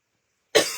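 A single sharp cough bursts out after half a second of silence, loud and close, with a short rough tail as it dies away.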